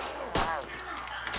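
A single sharp pistol shot cracks out loud in the Contagion video game, layered over ongoing game audio and voices talking.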